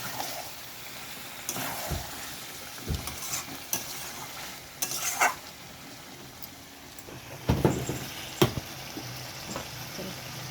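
Meat and potatoes sauté in a pan with a soft continuous sizzle, broken by irregular stirring scrapes and knocks of a spoon. A few clear clanks come near the end.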